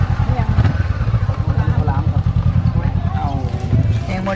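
Big motorcycle passing on a Thai street, a loud close engine with a fast pulsing throb and a rising growl, with people talking over it.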